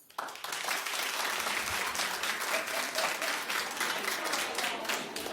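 A talk show studio audience claps in a sudden burst that holds steady and full, a dense sustained applause that carries on without voices over it.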